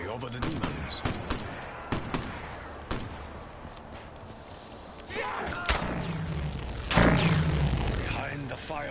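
Gunshots ring out in a first-person zombie shooter game, sharp bursts in irregular rapid succession alongside thuds, footsteps and explosive crashes, with voices talking over the action.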